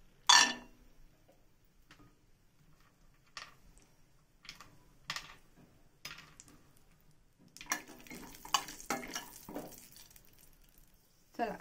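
Almonds being dry-roasted in a pan for a fasting-day makhana chivda clink and tick sparsely as they are stirred, with soft scattered taps and a denser rattle of stirring near the end, fairly quiet.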